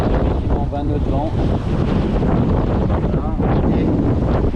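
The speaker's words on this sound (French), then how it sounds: "On a effectivement 20 nœuds de vent." Strong 20-knot wind roars across the microphone on a sailboat at sea during an Atlantic crossing from the Azores to Gibraltar, a steady loud rush of gusting wind and hull water noise, with faint voices underneath.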